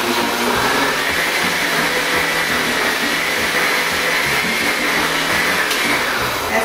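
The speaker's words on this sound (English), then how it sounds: "Now just blend for about 10 seconds" A blender blending coquito, Puerto Rican eggnog, whirs continuously at high speed for several seconds, a loud, steady motor drone with churning underneath.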